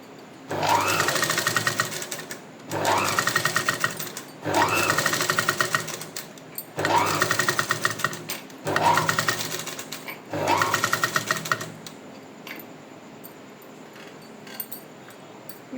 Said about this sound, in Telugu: నేను నార్మల్ పాదంతోనే స్టిచ్ చేస్తున్నాను ఈ కుట్టు మీద నుంచి